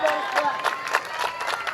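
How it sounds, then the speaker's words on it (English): Crowd at a Darien girls varsity soccer match against Danbury, cheering and applauding steadily from the stands in a continuous murmur with scattered claps, with voices talking throughout. "You can hear the applause from the pro-Darien crowd."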